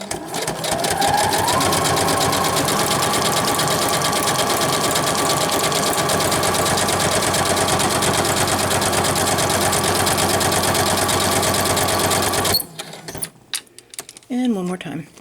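A sewing machine stitches around a paper envelope with a loud, fast, steady mechanical whir for about twelve seconds, then stops abruptly, leaving a few faint handling sounds. A voice talks over the machine.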